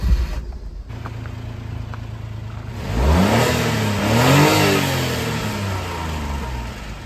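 A Honda Acty with its stock exhaust idles quietly, then revs up twice in smooth rising and falling swells, close and moderately loud, before dropping back toward idle.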